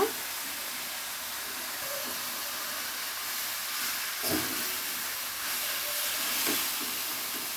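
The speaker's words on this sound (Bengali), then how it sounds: "এ পর্যায়ে আমি দিয়ে দিব নুডলসগুলা।" Yellow turmeric-tinted noodles go into a hot pan with frozen vegetables, producing a steady, broad hiss of sizzling that holds evenly throughout, with a few soft knocks and stirring sounds.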